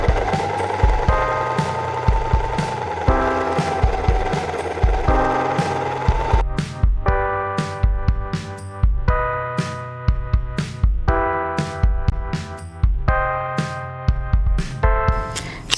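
A sewing machine stitches down one side seam of a vintage 1940s-style hood, running in repeated bursts of rapid mechanical pulsing separated by short stops, close and loud with no speech.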